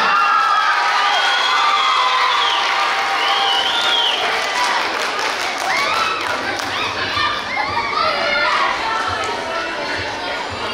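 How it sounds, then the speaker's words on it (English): Students at a school state test pep rally are greeted by a crowd of children cheering, shouting and clapping, a loud, dense wash that holds steady for about ten seconds with scattered thuds and voices mixed in. "Let's give these students a round of applause."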